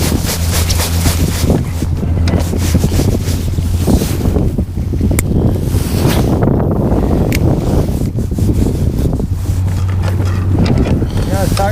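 A fishing motorboat engine drones steadily on the water with wind buffeting the microphone; the hum dips briefly midway as the boat slows, then returns.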